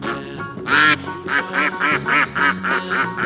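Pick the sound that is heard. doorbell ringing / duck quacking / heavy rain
duck quacking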